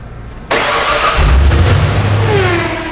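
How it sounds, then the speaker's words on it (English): A Ford Bronco engine cranks and catches with a sudden loud start, then settles into a rough, rumbling idle with a slight rev, heard up close. "now we're going to start the Bronco so the oil can build up and build pressure inside the"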